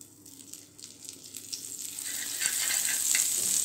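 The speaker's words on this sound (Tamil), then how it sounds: "ஹீட் பண்ணிவிட்டு நம்ம கொஞ்சோண்டு வெண்ணெய் எடுத்து இதில் போட்டுக்கலாம்." Butter sizzling on a hot griddle while pav bhaji is made, a soft crackle that swells louder and brighter over a few seconds, close by and with no voices.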